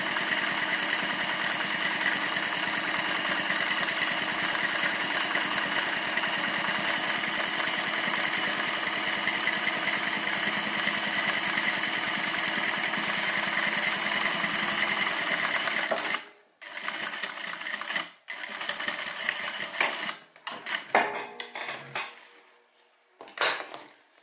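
A sewing machine stitches a cabin bag in a fast, steady mechanical whir for about sixteen seconds, then stops and restarts in short bursts with pauses between them.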